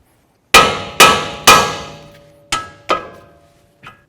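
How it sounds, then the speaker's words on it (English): A hammer strikes a 2008-12 Chevy Malibu steering knuckle six times with sharp ringing clangs, three quick hits, a pause, then three more, each fading with a metallic ring. "it's great to use a hammer, bonk right on the knuckle right here and break it free"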